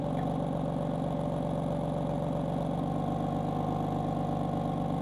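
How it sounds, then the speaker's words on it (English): A BMW F80 M3 engine runs at a steady idle after starting, its exhaust giving a continuous, even rumble with a faint rhythmic pulse throughout, close and alone. "You'll either love or hate the sound of this exhaust"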